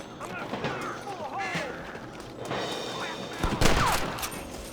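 A video game shootout at a camp brings scattered gunshots and a quick volley near the end, mixed with voices and shouting.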